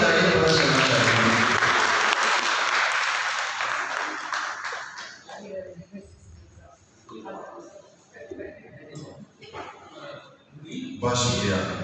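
An audience at a poetry book launch ceremony breaks into loud clapping that fades over several seconds into scattered claps and murmurs, then swells briefly again.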